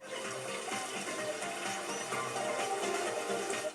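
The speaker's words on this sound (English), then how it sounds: "one of my personal favorite details appears when you stand under a steady flow of water." A steady, continuous flow of water in the video game Astro Bot pours evenly throughout, a dense hiss with no pauses or talk.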